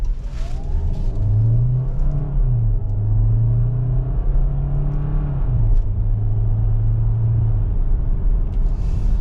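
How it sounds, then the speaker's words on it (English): A 2024 Kia Sorento SXP Hybrid brakes and then pulls away, heard from inside as a steady, fairly loud engine and road rumble with a low drone that rises and falls as the vehicle slows and accelerates again. "now we're going to step on the brakes, stops nice and easily, nice straight line, and now we'll take off."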